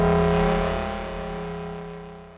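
A harsh, broken-sounding synthesizer patch from a Meris Shapeshifter-style effect plays alone, a dense buzzing drone with many stacked harmonics that starts loud and fades slightly over a couple of seconds.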